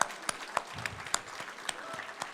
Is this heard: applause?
yes